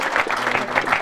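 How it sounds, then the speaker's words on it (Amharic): A talk-show studio audience breaks into a quick patter of applause, many hands clapping at once in a steady, moderately loud burst. "በርግብ አጨብጭቡለት"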